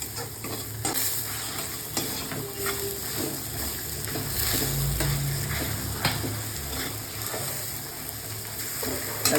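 Onions and potatoes fry in a pan with a steady, close sizzle while a utensil stirs and scrapes through them in intermittent strokes, with no talking.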